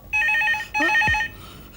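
Telephone ringing in two electronic bursts of trilling rings with a short pause between them, loud and close, in a household drama scene, with no talk over it.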